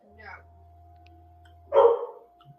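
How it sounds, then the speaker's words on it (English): An excited dog lets out one loud, sharp bark near the end, following a faint yelp earlier, over a steady low hum in a room. "I got my dog going crazy here."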